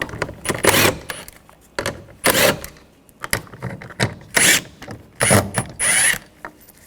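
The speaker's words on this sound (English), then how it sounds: "Using a 10mm socket, we're going to take these bolts out." A 10 mm socket ratchet removes the side mirror bolts on a 2014-2020 Nissan Rogue, giving repeated close bursts of rapid clicking separated by short pauses.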